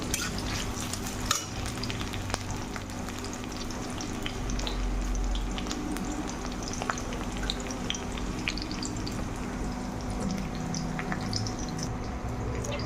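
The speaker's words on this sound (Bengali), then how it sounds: "পেঁয়াজটাকে অল্প ভেজে নেবো" Onion frying in a pan with green chilies and garlic for a sautéed greens dish, a steady low sizzle with occasional stirring scrapes running throughout, fairly quiet and without any voices.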